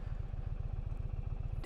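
Indian Pursuit Dark Horse motorcycle engine running hard under acceleration, a steady low pulsing throb with rapid regular firing beats, close and continuous throughout.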